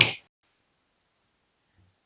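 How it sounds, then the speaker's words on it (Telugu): A single crisp finger snap sounds close and loud at the very start, then quiet follows with only a faint soft knock near the end. "చిటికేస్తే మన ముందు ప్రత్యక్షం అయిపోతాయి"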